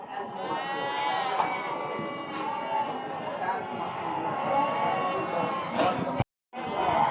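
Young goat kids at the Barda livestock market bleat over and over in a dense, continuous chorus close by, with crowd noise beneath and a brief dropout near the end.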